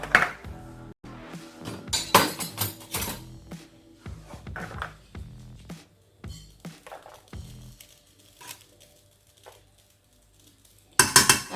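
Spoon clinking against bowls and small sterilized containers as baby fish puree is portioned out, with repeated close scrapes and taps in irregular bursts and quiet gaps between them.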